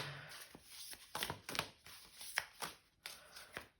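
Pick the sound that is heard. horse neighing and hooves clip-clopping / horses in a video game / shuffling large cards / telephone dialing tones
shuffling large cards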